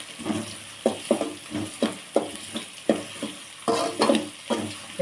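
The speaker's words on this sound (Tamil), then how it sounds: "கூடவே வந்து கருவேப்பிலை, ஒரு 5-6 பூண்டு போட்டு நல்லா கிளறி விட்டுக்கலாம்." Curry leaves and five or six garlic cloves fry with onions in a pan for fenugreek curry, stirred with a rhythmic series of sharp scraping strokes over a steady sizzle, close and clear.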